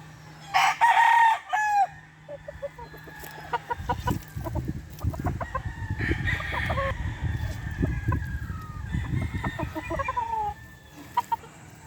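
Gamefowl stags at a game farm crow repeatedly, several loud cock-a-doodle-doos overlapping, with clucking and scattered fowl calls and a bed of farmyard noise in between.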